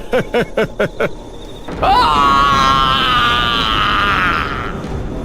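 In an animated Hindi horror story, after a few short rhythmic grunts, a police inspector lets out a long, loud, sustained scream that holds for several seconds before fading slightly.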